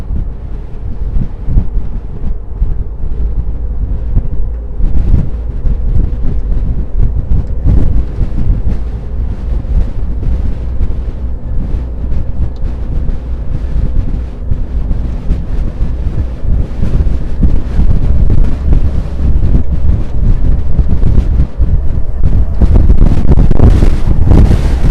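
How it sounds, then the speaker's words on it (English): Strong wind roars and buffets the microphone continuously near the Queensboro Bridge in New York City, a loud low rumble with gusty surges throughout and no voices. "The wind, unreal."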